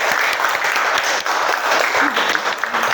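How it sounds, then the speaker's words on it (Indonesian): Steady applause from a class of students filling the room at a teacher-training practice lesson, loud and continuous with no break for the whole stretch. "tepuk tangan dong buat kita semua"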